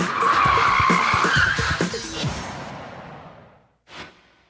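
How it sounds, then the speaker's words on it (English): Car tires skid loudly through a forward handbrake J-turn, a sustained screeching squeal with engine noise underneath that fades out, followed by one brief sharp burst. "the fastest way to turn around is a maneuver called a forward handbrake J-turn"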